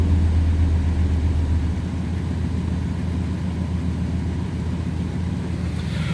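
A car engine fitted with EFI and a dual plane intake idles at high RPM, a steady loud low rumble with a deep drone that eases slightly after the first two seconds, with no talk over it.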